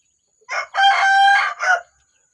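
A rooster in a Lao village, among ducks and chickens, crows once, close and clear: a short opening note, then a long drawn middle and a brief closing note, with silence before and after.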